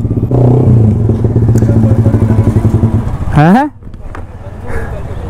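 A modified Yamaha R15 motorcycle revs through a pull, its exhaust a loud, pulsing, crackly note that rises sharply before cutting off, leaving a quieter idle with voices nearby.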